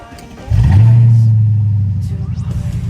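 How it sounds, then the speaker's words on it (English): A Mercedes S-Class engine cranks and fires up close on its own battery, settling into a loud, steady rumble with a slight uneven idle. "The car should fire under its own battery now"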